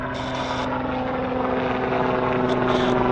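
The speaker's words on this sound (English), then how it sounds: "Had a Westjet fly by" A WestJet airliner passes overhead at Vancouver Airport with a loud, steady engine drone carrying a strong humming tone, close and continuous through the whole moment, and no voices over it.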